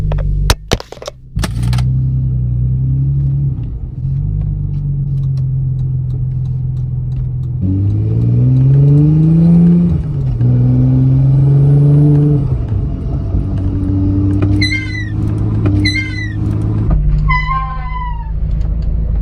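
An Audi B5 S4 drives along with a steady, loud engine drone and road rumble that rises and falls as the revs shift, while a few short squeaky chirps sound near the end.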